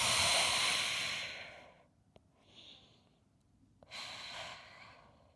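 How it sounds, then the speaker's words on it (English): A person breathes slowly in and out during a mindfulness and stretching exercise, with a long airy exhale, a quiet pause, a soft breath, then another breathy sigh, close and intimate. "And just breathe in and out."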